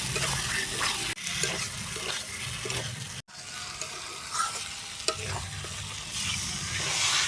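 Boiled potatoes are sautéed with spices in a pan, giving a steady sizzle with repeated scraping stirs and clinks and one abrupt brief pause.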